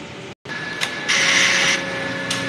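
An inkjet printer's print head moving into its capping station, a steady mechanical whir with a brief drop-out, then a louder motor hum partway through and a small click near the end.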